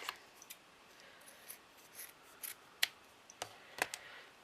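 Scissors snip paper for a shabby chic butterfly craft, a run of quiet, crisp cuts at irregular intervals, close and alone with no talk.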